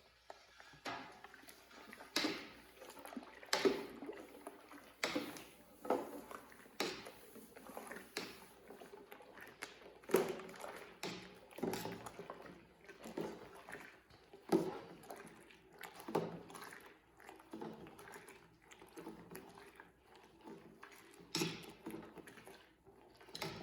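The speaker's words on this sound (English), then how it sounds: "now I'm gonna add the dried malt extract, 1 pound. Gotta add it quick and stir fast." One pound of dried malt extract is stirred fast into Russian imperial stout wort in a plastic brewing bucket, giving close, repeated swishing and scraping strokes in an uneven rhythm.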